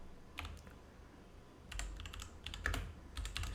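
Programming code is typed on a computer keyboard in short clattering bursts separated by brief pauses, close-miked over a low steady room hum.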